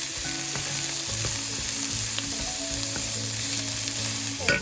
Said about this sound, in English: I've got my meat on, drop in a couple of pats of butter, and I'm going to put in my onions, get that going